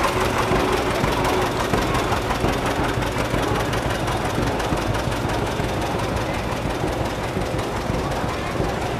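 Loud 1941 John Deere tractor engine chugging steadily with a rapid knocking rhythm, running continuously throughout.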